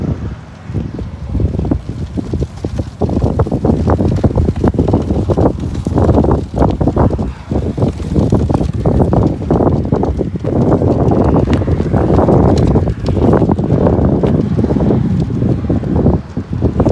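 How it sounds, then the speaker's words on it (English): Strong wind gusting outdoors, heard as loud, continuous buffeting rumble against the microphone with no break and no voices. "Wind's strong today"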